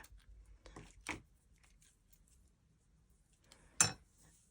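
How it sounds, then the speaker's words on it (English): Two quiet, crisp scissor snips into paper a few seconds apart, separated by soft rustling in a hushed room. "I have got the right scissors"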